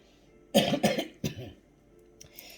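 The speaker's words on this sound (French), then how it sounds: "je me mets à tousser" A few sharp coughs in quick succession, close and fairly loud, followed by quiet and a faint rustle.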